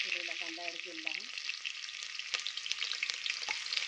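Big chopped onion pieces fry in hot oil inside a pressure cooker, a steady, fairly faint sizzling crackle that runs throughout, with a brief low tonal sound at the start.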